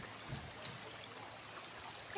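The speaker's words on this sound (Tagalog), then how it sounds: "Sarap magtampisaw sa ilog." River water flowing around someone wading in a Philippine river, a soft continuous babble and trickle, fairly quiet and even throughout with a brief louder swell at the very end.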